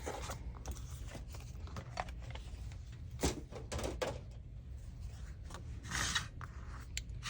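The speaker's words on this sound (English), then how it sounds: "And I'm going to cut that off about right there." Scissors cut through a book page for a junk journal embellishment, several short close snips with soft paper rustling between them and no voices.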